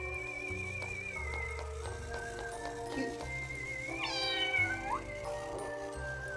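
A cat meows in the Chocobo's Dungeon video game, several high, warbling, synthetic cries rising over a steady looping game music track at moderate volume, with no talk.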